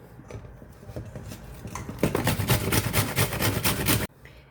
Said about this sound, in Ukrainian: Тру на тертку отаку велику цибулину.